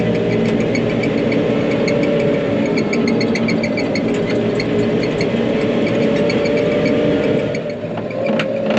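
A loud new tractor engine runs steadily and close by for the whole stretch, a dense rumbling drone with a constant mechanical hum and no speech over it.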